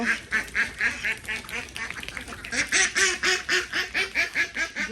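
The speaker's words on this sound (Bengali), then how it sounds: "হাঁসও চিল্লা পাল্লা করতেছে" A flock of ducks being let out in foggy morning air quacks loudly and continuously. The rhythmic, overlapping calls come close by and build in intensity.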